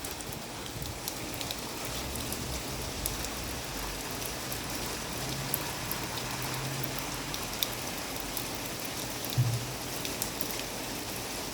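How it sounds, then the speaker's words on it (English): Steady heavy downpour from a thunderstorm over Woking town, a continuous broad hiss with scattered close drips and a few faint low thumps, no talking. "That heavy rain, guys."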